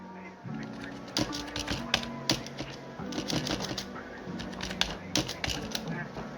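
Python code typed on a computer keyboard: a near, moderately quiet run of crisp key clicks arriving in uneven bursts, with short pauses between them.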